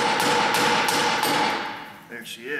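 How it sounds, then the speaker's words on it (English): A small hammer taps several times at a metal fuel pump part on a Ford F-150 to knock it loose, giving sharp, evenly spaced metallic knocks close by, then a short pause with a brief voice at the end. "So let's see if we can't tap this loose."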